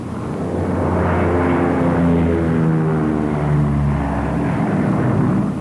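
Lockheed P-38 twin-engine fighter in flight, its propeller engines droning loudly and continuously with a steady, slightly wavering hum throughout, no voices over it.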